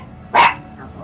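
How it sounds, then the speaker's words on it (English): A dog at home gives one short, sharp bark, close and fairly loud, then the room falls back to quiet. "No, don't get up and bark at her."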